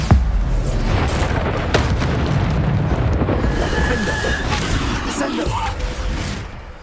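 Repeated Bombarda spell blasts from Hogwarts Legacy roll out as a continuous heavy booming rumble, loud and dense throughout, with a voice calling out spells over the din.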